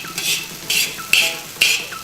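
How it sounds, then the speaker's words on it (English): Rice and Spam stir-fried in a pan, with four bright, rhythmic scraping strokes about half a second apart over a low sizzle, close and fairly loud. "stir fry it a little bit."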